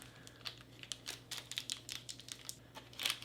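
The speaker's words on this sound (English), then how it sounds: "It is a foil packet." A Russian Expedition IRP ration foil packet being torn and opened, giving close, repeated crinkling and ripping bursts in an irregular rhythm over a low steady hum.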